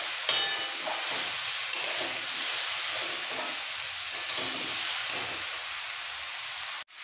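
Pumpkin stalks frying with mixed vegetables in a pan for kumro shak posto, giving a steady, close sizzle and hiss with soft stirring scrapes, alone and with no talk.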